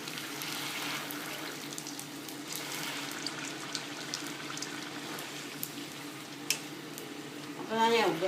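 Puri deep-frying in hot oil gives a steady, moderately loud sizzle and bubbling throughout, with a brief louder burst near the end.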